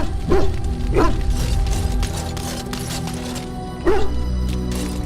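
A dog barks in the video game Dragon Age Origins, three sharp yips spaced about a second apart and then after a pause, set against a low in-game ambient hum and mechanical noise.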